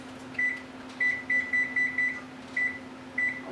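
A kitchen oven timer is set with a run of short, high electronic beeps in small irregular groups over a steady low hum.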